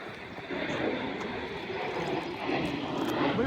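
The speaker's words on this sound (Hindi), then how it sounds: "प्राइवेट जेट बढ़े जा रहे हैं।" A private jet passes over a lake in the Scottish Highlands, a steady broad engine roar that swells slightly and holds, moderately distant, with no talking.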